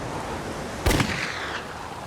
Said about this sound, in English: I fired off my 3 last rounds of my pistol to try to get more help